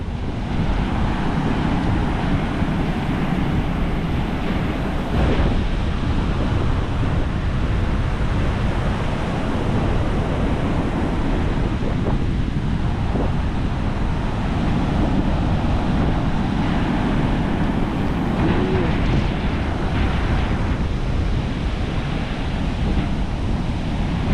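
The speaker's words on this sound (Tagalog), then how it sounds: "Yan, lakas ng hangin o." Strong wind at the sea in Bucana roaring steadily against the microphone, with surf rumbling underneath, loud and unbroken throughout.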